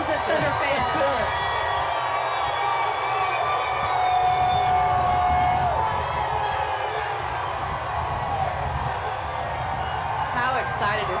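A huge street crowd at a basketball team's victory parade cheers and roars continuously, with whistles and horn-like tones drifting through, while a commentator talks over the steady din.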